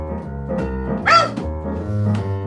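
A human voice imitates dogs, giving a few short yappy barks and a whimper, with one sharper bark near the middle, over a low sustained tone.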